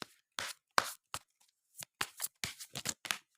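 Tarot cards shuffled in a series of short, crisp riffling bursts separated by brief pauses, close and fairly quiet, with no talking.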